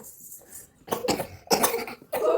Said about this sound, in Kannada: ಇಬ್ರಿಗೂ ಒಟ್ಟಿಗೆ ಕೆಮ್ಮು ಬಂದ್ಬಿಡ್ತೋ